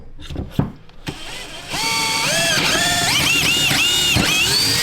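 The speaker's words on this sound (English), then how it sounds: "we're going to see how well this drills with me doing this way" A power drill bores into scrap wood while a shelf is built from scrap wood and dowels. It opens with a few knocks, then whines steadily and close, its pitch swooping up and down as the bit works.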